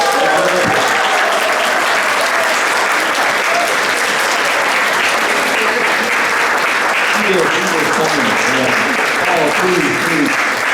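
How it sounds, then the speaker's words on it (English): A dinner-event crowd gives a sustained round of applause for two honorees, loud and continuous for about ten seconds, with scattered voices and a brief exclamation mixed into the clapping. "we all owe Benny and Edith a great round of applause"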